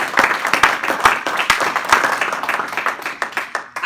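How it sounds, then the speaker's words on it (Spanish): A church congregation claps loudly for the Lord in a brief burst of dense, steady applause with a few sharper individual claps standing out. "¿Cuánto le damos un fuerte aplauso al Señor?"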